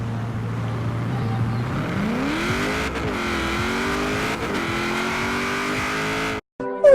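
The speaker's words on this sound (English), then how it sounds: "let go of the handbrake and watch it launch" A car in the racing game Forza Horizon 4 launches from the handbrake. A steady engine drone swells into a rising, loud rev as it pulls away, then cuts off sharply just before the end.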